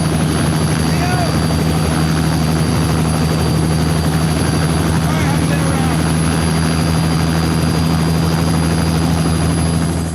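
Helicopter rotor noise in a film scene: a loud, steady thudding drone that fills the whole stretch, with speech faintly underneath.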